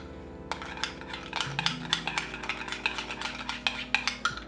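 Honey and yogurt being stirred together in a cup with a utensil, giving a run of quick, close clinks and scrapes against the sides, with a faint low hum underneath and no talking.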